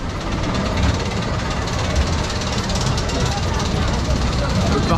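Big Thunder Mountain mine train roller coaster at Disneyland Paris rumbles along its track in a dense, continuous roar, with voices mixed in over the noise.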